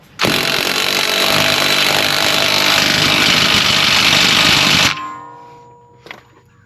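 A power tool tightening a part on a Ford car runs as a loud, steady whine for several seconds, then cuts off and winds down, followed by a faint clunk.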